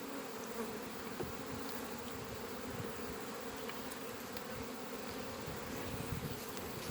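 A dense, steady hum of honeybees buzzing fills the air at a low, even level with no pauses.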